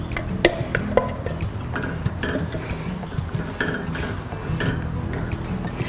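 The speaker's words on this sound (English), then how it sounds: "This has been simmering for about 10 minutes." Eggplant stew with soya milk simmers in a pan, giving a continuous close bubbling sizzle with occasional faint clicks and no voices.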